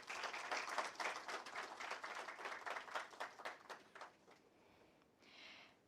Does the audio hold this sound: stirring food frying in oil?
no